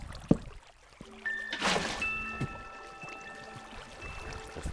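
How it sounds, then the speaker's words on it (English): Water is placed in the survival video game NerveCraft, giving a short splashing pour with a brief trickle, heard over game music tones and no talking. "Anyways, I can put down some water."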